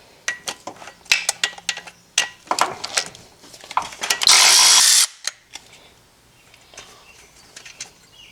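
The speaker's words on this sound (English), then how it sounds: "this bolt right there is the one you need to loosen" Rapid ratcheting clicks from a wrench loosening the 12 mm power steering adjuster bolt on a 2001-2005 Honda Civic, followed by a brief loud burst of air or tool noise, then scattered faint clicks.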